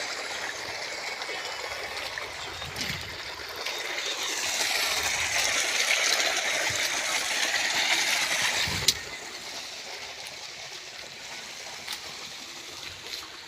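Water from a single pump motor gushes into a field irrigation channel, a steady, close rushing and trickling flow that runs the whole time with a brief splashy knock near the end.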